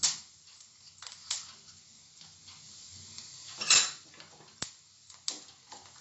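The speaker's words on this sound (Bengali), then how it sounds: "খুন্তিতে নেড়ে দিচ্ছি" Dry red chillies and cumin seeds for dal tadka stirred in a pan with a metal spatula: scattered metallic clinks and scrapes, one louder clank near the middle, over a faint sizzle.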